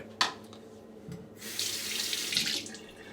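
Water from a tap runs steadily into a sink for a couple of seconds after a short knock, being added to a shaving lather that has turned a little dry.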